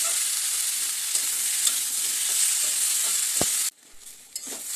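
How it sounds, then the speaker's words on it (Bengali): Vegetables with salt and turmeric fry in a pan and give off a steady, bright sizzle. A few scrapes of stirring sound through it, one sharp knock lands near the end, and then the sizzle drops sharply to a softer crackle. "সব কিছু মিক্স করে ভালো করে সবজিগুলো ভেজে নেব"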